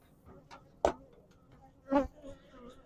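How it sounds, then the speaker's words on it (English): Honey bees buzz around a beehive during beekeeping, with two louder passes as bees fly close by against a faint background drone. "I'm bringing the bees with me"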